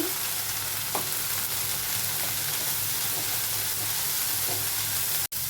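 Cumin seeds hit hot oil in a pan, already cooking with soaked peanuts and cashews, and give off a constant broadband sizzle at close range. A sharp clack sounds near the end.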